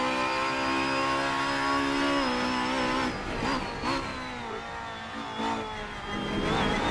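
Honda Accord MK5 BTTC race car engine held on light throttle, a steady close-up drone with harmonic whine that dips and wavers midway before picking back up, with no talking over it.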